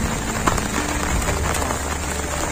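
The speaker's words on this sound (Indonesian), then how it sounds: "Hujan, tetap hujan menemani." Steady rain falls at a sunrise camp on Gunung Prau via Patak Banteng, a dense, continuous patter on surfaces with scattered louder drops, close and unbroken throughout.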